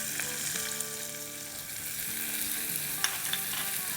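Chopped onion sautéing with whole cumin seeds in a hot pan for kababs or cutlets, a steady close sizzle with a few light scraping stirs and no one talking.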